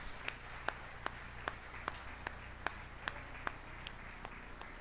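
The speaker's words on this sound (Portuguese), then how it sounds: "Pode aplaudir ao Senhor." A church congregation claps together in a steady, even rhythm, with about ten sharp claps spaced evenly over a few seconds against a quiet room hum.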